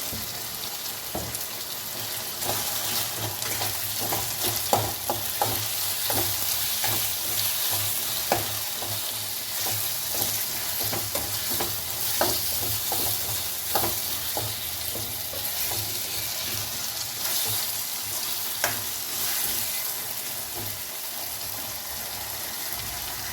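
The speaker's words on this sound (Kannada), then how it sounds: "ಟೊಮೆಟೊ, ಅಲ್ಲಿವರೆಗೂ ಹುರ್ಕೋಬೇಕು ಇದನ್ನು" Tomatoes frying with salt in a pan for a mutton fry, a steady loud sizzle with frequent stirring clicks and scrapes throughout, no talking.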